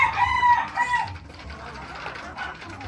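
Sweater and Maclean gamefowl roosters crow and cluck at feeding time, a loud close crow at the start followed by softer clucking and farmyard noise.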